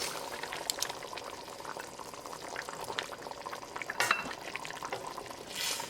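Fish being stirred into a simmering pea and potato curry in a pan on medium heat, soft scraping and wet sloshing over a quiet bubbling sizzle, with a couple of sharper utensil knocks against the pot.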